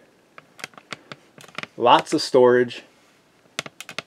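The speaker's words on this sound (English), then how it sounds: "old school mechanical keyboard" Keys clatter on an old-school mechanical keyboard connected to a Google Pixel Slate through a USB-C hub. The crisp, separate clicks come close up in an uneven rhythm, and a short spoken phrase breaks in midway.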